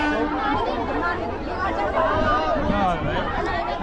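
Packed train carriage of pilgrims heading to the Kumbh Mela in Prayagraj, filled with a dense babble of many overlapping voices, steady and close, with no single speaker standing out.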